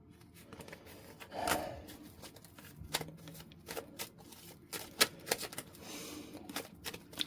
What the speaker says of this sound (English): I shuffled these cards.